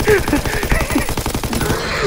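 An MP40 submachine gun fires in rapid automatic bursts in Call of Duty WWII Nazi Zombies, loud and close, with a voice briefly heard over the gunfire.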